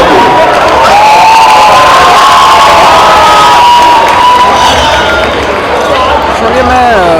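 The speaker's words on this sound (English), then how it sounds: "Ladies and gentlemen, a huge round of applause once again for Sonam Kapoor." Loud crowd cheering at an actor's campus visit to IIT Bombay, with continuous shouting, whoops and whistles rising over the noise throughout and little distinct clapping.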